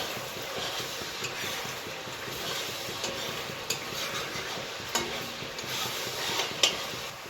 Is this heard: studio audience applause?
no